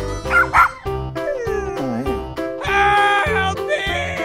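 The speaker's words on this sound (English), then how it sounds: "Dog." Cartoonish dog yips and barks, with whimpering, howl-like sliding tones, sound loud over a bouncy musical backing.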